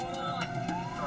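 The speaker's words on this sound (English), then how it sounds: "parents followed Dr. Wilder and the ambulance as it raced against time." An ambulance siren wails steadily throughout, its rising and falling tone held loud and close over a background of talk and road noise.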